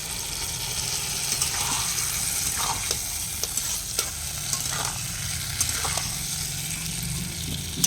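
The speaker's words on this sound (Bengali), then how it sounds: "আর তেঁতুল আর গুড় একসঙ্গে দিয়ে রেখেছিলাম সেই জলটা আমি দিয়ে দিলাম" Tamarind and jaggery water hits a pan of sizzling chili pickle. A steady, close frying hiss carries on with occasional bubbling pops and stirring scrapes, and no one speaks.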